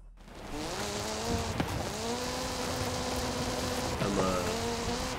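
Race cars in a Forza Horizon 5 race roar with steady engine tones and shift pitch twice, while tires squeal and skid at close range over the whole stretch, with no talking.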